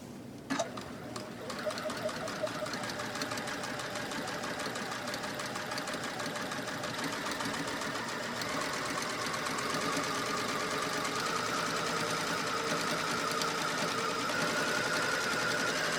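A sewing machine runs steadily while stitching a dress, a continuous close mechanical whir with a fast rhythmic needle chatter throughout, no voices.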